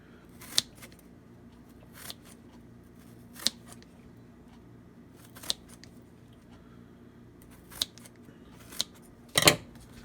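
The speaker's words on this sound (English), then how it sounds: "So I'm just going to cut these in strips." A knife cutting peppers into strips on a board for freezer storage: sparse, crisp single chops spaced a second or two apart, close and fairly quiet, ending in a quick cluster of cuts, with no talking.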